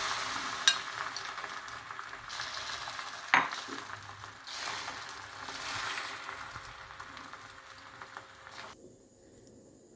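Beaten egg poured onto a hot dosa griddle stone for an omelette gives a quiet, continuous sizzle, broken by a couple of sharp utensil clicks, before the sound cuts off near the end.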